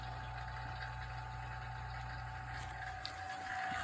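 Vacuum pump evacuating the AC system of a Hyundai Tucson after compressor replacement, steady low droning hum with a constant whine, quiet and continuous, no talking.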